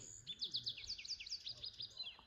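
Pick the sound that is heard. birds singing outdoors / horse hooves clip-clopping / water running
birds singing outdoors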